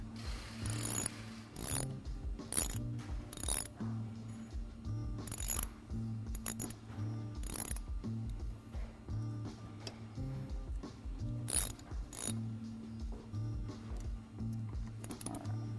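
A ratchet clicks repeatedly in short bursts while tightening brake disc bolts on a bike during a Galfer brake disc fit, the quiet metallic ratchets spaced irregularly and close by, with no talking.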